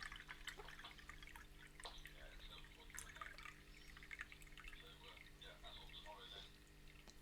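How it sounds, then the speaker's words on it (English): Water pours and drips steadily through a tin container in a DIY water filter, with irregular tinny splashes and droplets over a low background hum. "I'm going to pour the unfiltered water in."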